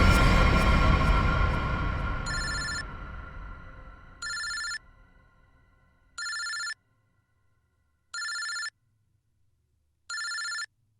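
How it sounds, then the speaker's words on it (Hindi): A telephone rings in evenly spaced, electronic bell bursts, five rings about two seconds apart, clear and alone after a fading wash of background noise. "ये किसका फोन है?"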